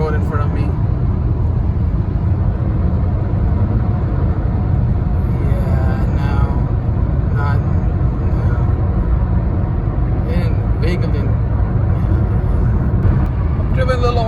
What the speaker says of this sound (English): So I'm going to accelerate now.